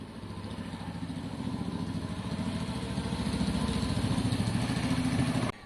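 A Lexmoto Valiant motorcycle engine runs steadily close by, a throbbing idle with a pulsing exhaust and intake note that swells slightly partway through, with no speech.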